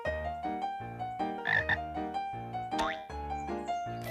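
Cartoon frog croaking in a steady series of loud, close, tonal ribbits with a bouncy rhythm, mixed with brief boing-like flourishes.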